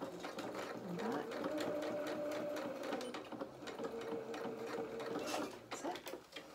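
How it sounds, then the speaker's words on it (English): Sewing machine stitching a kilt waistband forward and back, a steady close mechanical whirr with a brief pause before it resumes, running throughout with no talk. "Let me just do a few stitches forward"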